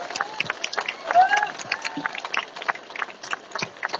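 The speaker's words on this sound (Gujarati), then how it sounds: "નરેન્દ્રભાઈના માનમાં એક વાર જોરદાર તાળીઓ આપો" A crowd at a political rally claps and cheers in honour of Narendra Modi, with scattered, uneven applause and voices rising through a continuous murmur that stays fairly loud and close throughout.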